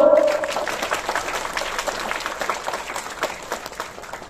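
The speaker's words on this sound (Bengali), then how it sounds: "জোরে একটা হাততালি দাও তো।" An audience at a motivational speech bursts into dense, loud clapping that gradually thins and fades over a few seconds.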